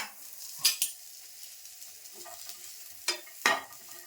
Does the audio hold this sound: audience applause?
no